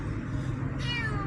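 A single short kitten meow rises clearly and close over a steady low background hum.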